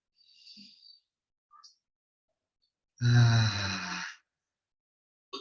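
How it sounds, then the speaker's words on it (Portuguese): During a transpersonal psychology breathing exercise, soft scattered sounds are followed by one long, deep, audible breath lasting about a second, near and fairly loud, then quiet. "uma grande respiração"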